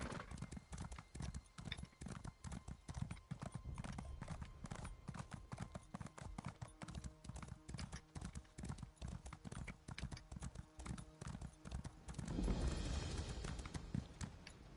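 Horse hooves clip-clop in a steady rapid rhythm while riding in a video game, continuous and fairly close for most of the stretch before a louder rushing swell near the end.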